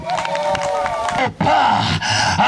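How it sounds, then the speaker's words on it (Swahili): Church crusade crowd in Chilonwa, Dodoma, clapping and ululating in praise, a dense sustained wash of high trilling cries over applause, with a brief dip partway before it surges back loud. "Shangilia Yesu kwa makofi na vigelegele"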